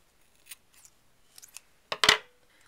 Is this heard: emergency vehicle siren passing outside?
no